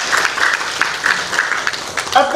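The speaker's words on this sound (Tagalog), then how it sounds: "Usa ka palakpak." Audience applause at a provincial government livelihood program gathering, a short burst of dense clapping from a crowd, fairly loud and close, with a voice over it near the end.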